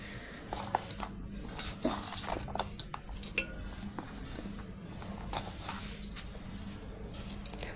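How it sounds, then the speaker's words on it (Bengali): Chopped onion and green chili are tipped into a pot of rice for khichuri, with scattered clinks of a utensil against metal and soft dropping, rustling sounds, close and moderately quiet. "এখন এর মধ্যে দিব হচ্ছে পেঁয়াজ মরিচ কুচি।"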